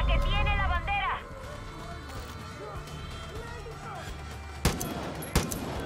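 Gunfire in the video game Far Cry 5: two sharp, loud shots ring out near the end, about a second apart, over a busy background of game sounds, with a voice heard briefly early on.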